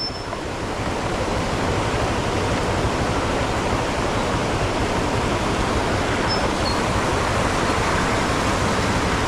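Large floodwater rushing along a road being built toward a small lake, a constant loud broadband roar like a torrent, close and unbroken throughout with no voices.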